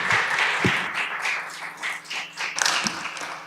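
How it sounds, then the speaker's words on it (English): An audience applauding at a mayor's innovation challenge event in Kingston, Ontario, a loose patter of clapping hands with a few louder sharp claps standing out. "Please give yourself a big round of applause."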